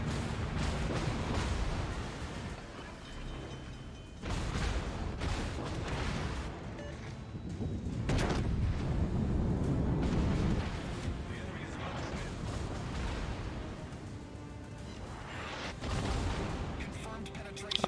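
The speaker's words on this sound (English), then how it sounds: "Yamato is shooting at you." Battleship gunfire in World of Warships, the Yamato firing its heavy guns: rolling, rumbling booms and explosions layered over a continuous dense roar of naval battle, loud throughout the clip, with a player talking over it.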